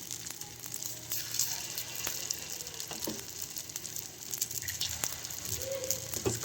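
Small ladlefuls of gunta punugulu batter fry in hot oil in a paniyaram pan, giving a steady, close sizzle and crackle throughout, with occasional faint clicks of utensils.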